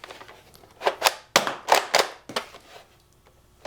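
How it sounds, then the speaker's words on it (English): A Nerf DinoSquad Armorstrike blaster slam fires in a quick burst, several sharp snapping shots close together, then quieter mechanical clicks, loud and close with no talking. "So you have to hold it down like in the middle, then it will slam fire."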